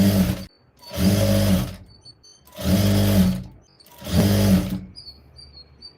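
A sewing machine stitches folded fabric on a blouse in three loud bursts of a few seconds each, separated by short silences, with a faint bird chirp in the gaps.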